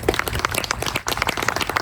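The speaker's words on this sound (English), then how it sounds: "give her a round of applause" An audience at an artist talk gives a round of applause for an invited artist, a dense, steady wash of many hands clapping together at fairly close range with no voices over it.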